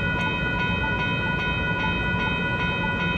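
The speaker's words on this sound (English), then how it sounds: "Oh, the train's coming from over this way." TriMet WES commuter train rolling slowly through the SW Farmington Rd and SW Lombard Ave crossing in Beaverton, with a constant rumble, a steady ringing crossing bell tone and a faint rhythmic clank repeating nearby.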